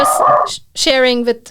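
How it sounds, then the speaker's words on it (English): A dog gives a short, close whining bark with a rising and falling tone, heard between bits of speech. "that was the dog"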